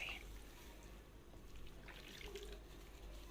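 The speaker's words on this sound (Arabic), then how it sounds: "نحط لها شويه كمان الشوربه اللي قلنا عليها، وممكن تكون ميه" Broth or water poured over chicken and potatoes in a baking tray, a steady soft splashing trickle of liquid running throughout at moderate, even loudness with no talk.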